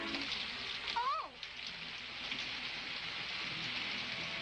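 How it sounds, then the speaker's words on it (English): Steady rain falls throughout, a dense constant hiss on a surface, with a brief voice rising over it near the start. "it's raining"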